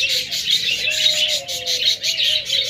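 A pair of budgerigars, one white with brown, chirping up close in rapid, continuous twittering bursts, with a thin warbling note running through the chatter.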